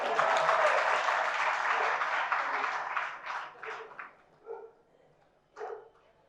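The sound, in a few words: audience applause at a religious discourse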